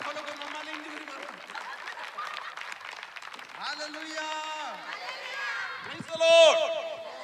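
A congregation at a Christmas church program claps loudly and steadily while voices call out and sing over the clapping, which rises again near the end.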